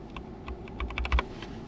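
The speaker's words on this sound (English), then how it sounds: "And then just push the keycap on top of it." A keycap is pushed onto a switch of a Logitech G512 mechanical keyboard, giving a quick series of light, close plastic clicks and taps, a bit louder near the end, with no talking.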